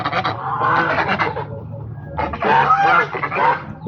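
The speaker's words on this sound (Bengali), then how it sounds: "দেশি হাঁসকে খাইয়ে বার করে দিছি।" A flock of domestic ducks quacks loudly and close by, overlapping harsh honking calls in two dense bursts with a short lull between them.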